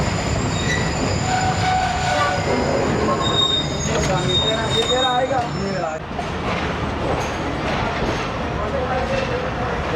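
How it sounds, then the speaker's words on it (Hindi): A train pulls out of a station in Pakistan, the Tezgam between Rawalpindi and Lahore, with steady rumbling, rail noise and high wheel squeals running throughout as people talk over it. "दोस्तों थोड़ा सा स्टॉप किया है और रवाना हो गई है ट्रेन।"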